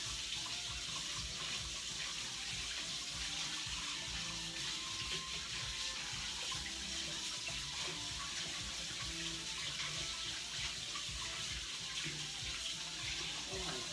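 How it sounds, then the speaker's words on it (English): Water runs steadily from a tap into a bowl, a continuous close splashing stream that holds evenly for the whole stretch with no voices over it. "I'm gonna get a bowl of water."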